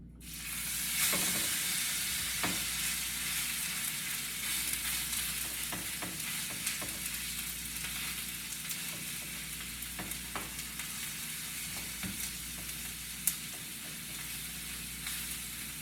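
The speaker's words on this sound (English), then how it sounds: "Back into the frying pan." Steady sizzling of steak frying in a pan, a continuous crackling hiss with occasional sharper pops and a brief clink near the end.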